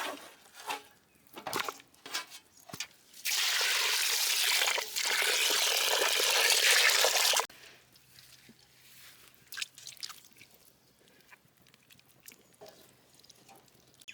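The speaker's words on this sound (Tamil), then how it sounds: "இப்போ வந்து மந்திக்கு தேவையான கறியெல்லாம் வந்து அலசி எடுத்துக்கலாம்." Chicken for an Arabian mandi biryani is rinsed in village cooking style: scattered wet handling splashes, then a loud steady gush of running water for about four seconds, followed by quieter drips and sloshing close by, with no talk.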